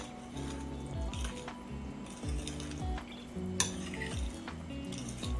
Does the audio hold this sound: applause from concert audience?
no